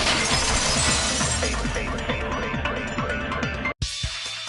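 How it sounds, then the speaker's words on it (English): A vase shatters with a sharp crash, followed by a cascade of tinkling glassy fragments that thin out before a brief cut and a short resumption of faint clinking. "If it wasn't the window, then what broke to make that sound? A vase."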